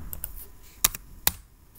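Someone types on a computer keyboard, giving a few sparse, sharp key clicks close by in a quiet room, with no talking.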